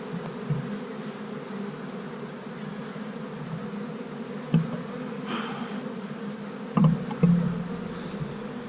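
Honey bees hum in a steady, close drone during a hive inspection as a heavy honey frame is lifted, with a few soft knocks of handling breaking through.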